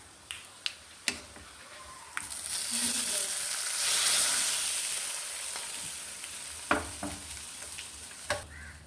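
Small shallots, crushed garlic and curry leaves frying in hot oil for a Kerala lentil curry: a few sharp pops and crackles, then a swelling sizzle that fades and ends with more crackles.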